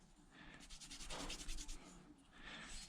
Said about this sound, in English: Heating that up from rubbing it.